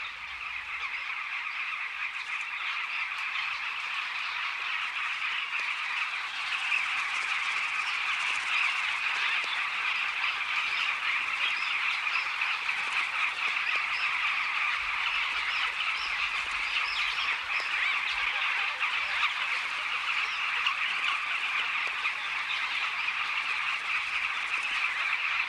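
A noisy bee-eater colony mobs a raiding monitor lizard, a dense, steady chorus of shrill, overlapping calls that carries on loudly and without pause for the whole stretch, with no voices over it.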